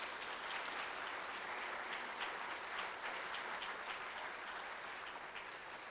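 Sustained audience applause at a public gathering honoring an elected official, dense steady clapping from a crowd filling the whole stretch without a break.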